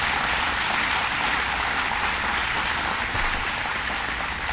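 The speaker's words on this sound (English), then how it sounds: "Let's give them all a round of applause." A large audience at a government funding announcement claps steadily and loudly, a dense unbroken wash of applause with no talking over it.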